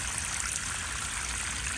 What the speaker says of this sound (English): Add all of your water.